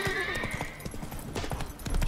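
Hooves of Geralt's horse Roach pounding in the video game The Witcher 3, a rapid, steady clip-clop rhythm up close with a brief whinny, over game music and ambience.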